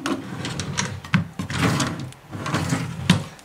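Wooden drawers on a chest of drawers in a rented apartment bedroom are pulled and pushed, giving a series of close knocks, slides and thumps in irregular succession.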